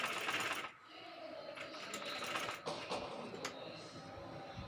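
A sewing machine runs slowly, stitching a baby frock in short bursts of steady mechanical whirring with brief pauses between runs, close and moderately loud.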